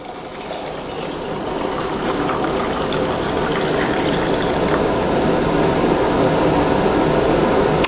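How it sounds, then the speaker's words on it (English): Melted beef tallow grease poured through a strainer into a jar, heard as a steady, close liquid pour that runs unbroken and grows slightly louder, with no talking. "I'm going to pour this grease through this strainer into this jar."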